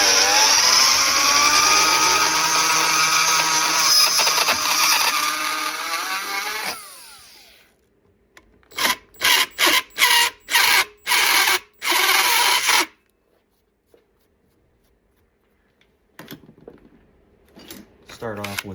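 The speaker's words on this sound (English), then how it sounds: "Because it's all jagged and stuff, you can't just start drilling. You can't center punch it, so I use a 1/4 inch burr ball" A power drill fitted with a 1/4 inch burr ball grinds into a broken small-block Chevy exhaust bolt, one long loud run that winds down, then a series of short bursts, followed by quiet.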